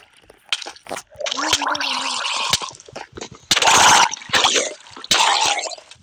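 Underwater bubbling and gurgling in the Minecraft video game, heard as irregular watery burbles and splashy bursts that come and go, with a voice briefly audible.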